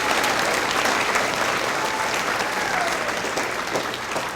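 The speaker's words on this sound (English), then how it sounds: "Please give them a big round of applause for their achievement." An audience at an elementary school fifth grade celebration claps in steady, dense applause that holds throughout.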